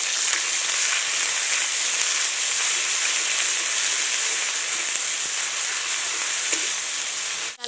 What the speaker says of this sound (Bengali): এবার আমি পেঁয়াজটা হালকা করে লাল লাল করে ভেজে নেব।